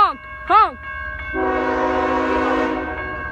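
A Union Pacific locomotive at Menlo Park sounds its horn in one loud, sustained chord-like blast lasting over a second, preceded by a couple of short chirping sounds.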